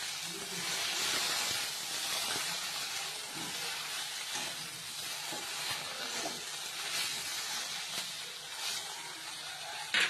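Sliced okra frying in a pan with turmeric and salt, a soft continuous hiss and sizzle with faint stirring scrapes, fairly quiet and steady with no one talking.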